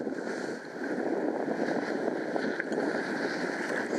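A sailboat under way in a fair wind off St. Simons Inlet on a cool December morning: a steady broad rush of wind and water, continuous and fairly loud throughout.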